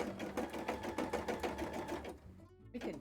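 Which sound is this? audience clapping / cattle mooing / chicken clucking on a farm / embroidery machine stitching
embroidery machine stitching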